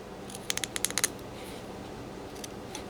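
A knife whittles a wooden Golden Retriever carving, giving a quick series of faint, crisp scraping clicks followed by a couple of softer cuts over quiet room noise.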